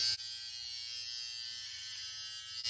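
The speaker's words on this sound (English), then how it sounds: "give the old stubble a trim rather than full on shave" A Gillette Styler 3 in 1 electric trimmer buzzes steadily while trimming stubble, a continuous close, fairly quiet motor whine that starts and stops abruptly at either end with no talking.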